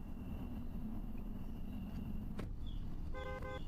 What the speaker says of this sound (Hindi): I saw a car nearing.